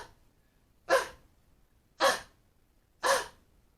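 A voice imitates a dying grandmother's labored breathing with three loud, evenly spaced gasping breaths about a second apart, heard close with quiet pauses between them.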